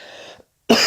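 A single short cough from someone with a cold, close to the microphone and loud, with a brief silence before the next sound begins.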